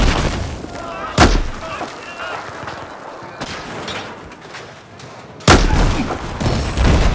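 Explosions and gunfire in the video game Battlefield 4 burst out in two sharp, loud blasts, one early and one late, with lower crackling and rumbling battle noise between them.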